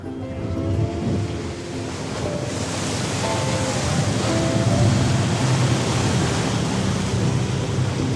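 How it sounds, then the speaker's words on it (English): Waves wash and surge in a broad, steady roar of water, building slightly louder after the opening seconds, with faint tones underneath. "Let's see what boat sounds I can find."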